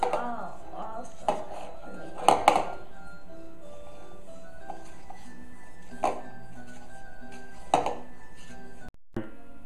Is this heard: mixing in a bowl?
yes